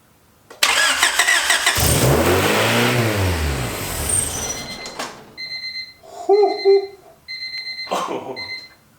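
A Honda Civic fitted with an H22 engine cranks and starts for the first time, a loud close burst of starter churn and rising engine roar that settles and fades, followed by short beeping tones and a few further revs.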